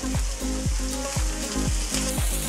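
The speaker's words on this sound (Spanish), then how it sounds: "mientras calentamos el sartén y salteamos la cebollita" Onion sizzles steadily in a hot pan of olive oil, a continuous crackling hiss, with faint rhythmic tones repeating in the background.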